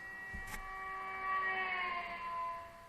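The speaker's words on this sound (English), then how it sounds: "The archetypical example of this is the sound of a race car driving past you." A race car drives past with a Doppler effect, a faint sustained whine whose pitch shifts as it passes, heard alone.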